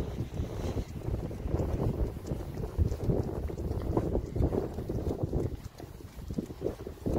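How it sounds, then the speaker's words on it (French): Gusty wind buffets the microphone in a steady low rumble, with rhythmic hoof clip-clops running underneath throughout, on a cool, breezy day. "Il y a un peu de vent aujourd'hui quand même"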